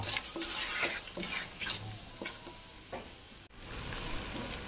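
A utensil stirs bay leaves and cardamom with melting date-palm jaggery in a cooking pan, making faint, irregular scraping strokes over a soft, low sizzle, with one brief pause near the end.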